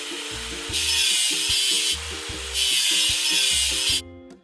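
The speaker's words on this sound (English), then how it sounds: "Let's get rid of the machine's rust." Rust is scraped or sanded off a truck machine in long, rhythmic rasping strokes that repeat in steady cycles, loud and close, with a low tonal hum running underneath.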